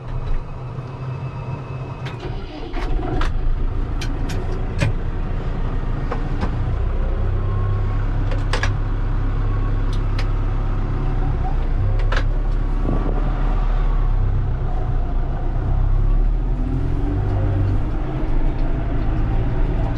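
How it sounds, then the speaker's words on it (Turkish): Heavy 20-25 ton trucks drive past with a loud, continuous low engine rumble and road noise that swells and holds steady, plus occasional rattles and clanks. "Şu kamyonları da göstereyim. 20-25 tonluk kamyonları."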